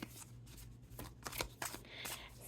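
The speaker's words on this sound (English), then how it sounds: "I've been shuffling here for like ages." Close, quiet shuffling of tarot cards, a run of soft papery riffles and slaps coming in uneven bursts, with no voice over it.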